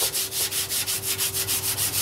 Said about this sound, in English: if you do a light sanding before the final coat, the finish will come out a lot smoother and nicer.